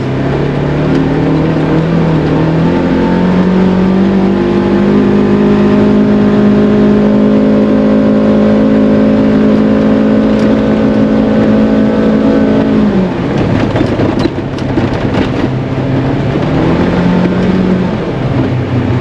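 A car engine drones steadily while driving, its pitch rising and falling as it shifts gears, loud and continuous.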